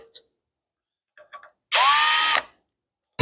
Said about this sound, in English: I'm going very lightly with this drill.